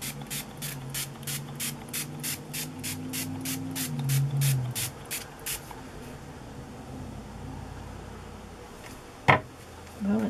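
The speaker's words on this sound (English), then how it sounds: "I have lemon zest by Illusions. That one sprays." Lemon Zest by Illusions spray bottle sprays in a rapid series of about fourteen short, sharp hissing bursts, evenly spaced in a quick rhythm. Quiet room noise follows, then a single louder click or tap.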